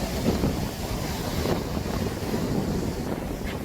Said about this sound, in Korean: 잠시 파도 소리 여러분과 함께 들어보도록 하겠습니다